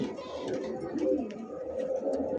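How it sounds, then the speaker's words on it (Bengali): Blue bar magpie border pigeons with feathered feet coo in a pair, giving low, soft, continuous murmuring calls close by over a steady background. "দেখতে পাচ্ছেন চমৎকার ব্লুবার ম্যাকপাই বর্ডার কবুতর"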